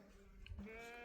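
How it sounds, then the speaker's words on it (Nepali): A single short sheep bleat rings out close by, a wavering nasal cry over quiet outdoor background. "के भन्छ यसलाई भेडा हो"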